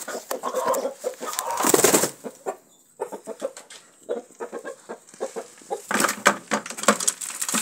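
A rooster and hens in a henhouse, with loud bursts of clucking and squawking, then quieter, scattered clucks before the flock grows noisy again.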